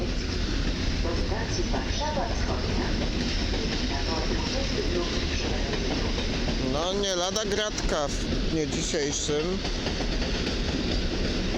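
An EN71 electric multiple unit train rumbles past at Warszawa Zachodnia with steady broadband roar and rhythmic wheel clatter, loud and close, while someone talks over it throughout.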